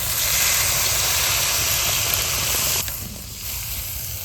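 Masoor dal curry gravy with egg boils in a pan, giving a loud, steady bubbling hiss that drops slightly in level near the end, with no voices.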